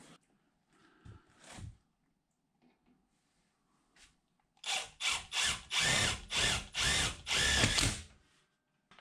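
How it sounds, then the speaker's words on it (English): A power drill drives screws into the seam of a wood stove pipe in an off-grid cabin, heard as several loud, close whirring bursts in quick succession after a few quieter handling sounds. "Put a few screws in it."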